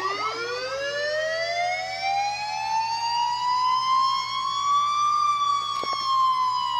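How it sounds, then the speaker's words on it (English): A homemade electronic siren generator gives one long, slow wail. The pitch climbs steadily and then eases back down, staying loud and alone with a faint steady hum beneath it. "Another siren."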